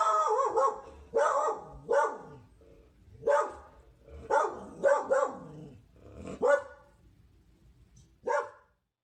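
A dog named Folly barks over and over at the front door, giving loud, close, irregular bow-wow barks with a few yips and short gaps between bursts.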